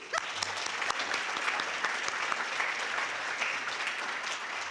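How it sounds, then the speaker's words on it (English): An audience at a scholarships and awards banquet applauds, with dense, steady clapping from many hands that fills the room at an even level throughout. "Let's give them another round of applause"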